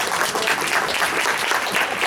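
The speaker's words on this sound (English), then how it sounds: "Let's give them one more round of applause, please." A school board meeting audience gives sustained, dense applause for a group of students, steady and fairly loud throughout with no break.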